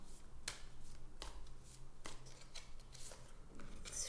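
Tarot cards drawn and flicked from a deck, producing quiet, crisp snaps and shuffling rustles at irregular intervals, close by.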